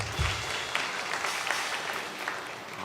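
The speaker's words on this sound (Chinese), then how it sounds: "我们一起来拍手来欢迎" A church congregation claps together at a Sunday service to welcome a newborn baby, steady moderate applause filling the room at medium distance.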